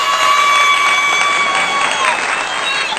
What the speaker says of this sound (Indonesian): Tepuk tangan dong tiga narasumber kita.